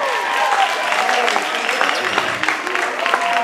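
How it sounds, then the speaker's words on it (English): Audience at a dry graduation ceremony applauds volunteers, a dense sustained clapping with scattered cheers from a crowd in a hall. "Now, give them a great big round of applause"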